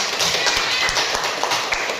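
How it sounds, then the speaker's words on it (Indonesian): A class of young children in a school classroom clapping together in quick, fairly steady rhythm, a dense burst of many small hands for a couple of seconds. "Tepuk tangan dulu buat wortel."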